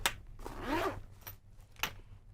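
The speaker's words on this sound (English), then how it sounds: "each of these have secure zipper closures that go all the way to the bottom" A backpack compartment's zipper pulled in one smooth, rasping run, framed by brief fabric rustles and a sharp click or tug near the end, close and quiet.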